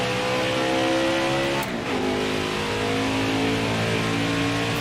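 A NASCAR Heat 5 stock car engine drones loudly in first person through a lap of Mid-Ohio. The pitch climbs and holds, dips briefly at a gear shift, then rises again in a continuous roar.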